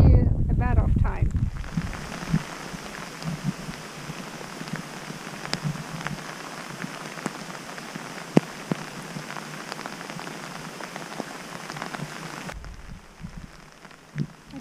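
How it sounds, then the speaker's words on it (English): Steady rain falls outdoors in the wilderness, a dense continuous patter on surfaces with occasional louder drops, heard close and alone from start to finish. "Finally getting some rain here."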